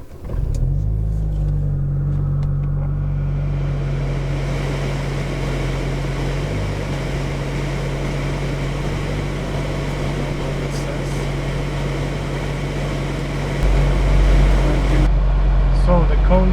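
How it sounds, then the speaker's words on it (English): A Saab 9-5 Aero engine idles after a cold start with a steady low hum and rumble, holding even throughout, then deepening slightly near the end. "So the cold start on this car is so long"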